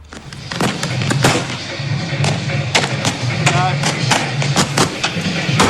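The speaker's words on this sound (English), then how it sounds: "Welcome to fireworks, Mexico style." Fireworks explode at Mexico's National Pyrotechnics Festival, heard from about ten metres away: loud, sharp bangs and thuds burst in rapid, irregular succession over a crowd, while someone talks.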